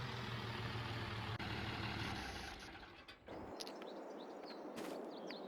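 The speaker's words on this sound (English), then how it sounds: "It's a good old tractor, 1586." An International 1586 tractor idles in the Farming Simulator 22 video game, a steady low engine drone that runs for about three seconds and then cuts away, leaving outdoor ambience with scattered bird chirps.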